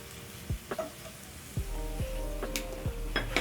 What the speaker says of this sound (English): I just chose to do shallow frying.